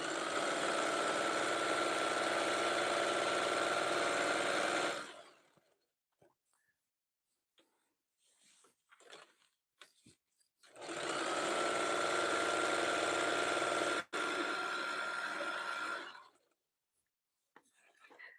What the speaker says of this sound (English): we started sewing the strips for the jelly roll rock. I like this machine because it goes so fast